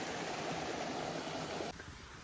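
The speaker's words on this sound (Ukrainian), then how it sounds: "От приїхала на водопад, дивіться." A steady broadband rush of water from a waterfall in the Carpathian mountains of Ukraine, close and continuous, its roar dropping slightly near the end.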